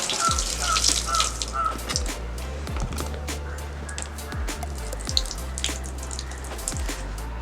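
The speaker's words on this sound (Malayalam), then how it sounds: "നന്നായിട്ട് വൃത്തിയാക്കി എടുക്കണം വെള്ളത്തിൽ വെച്ച്." Water sloshes and drips as marker writing is washed off an acrylic sheet. Soft splashes and small knocks come close by and fairly quiet, in an uneven rhythm, with a faint low hum underneath.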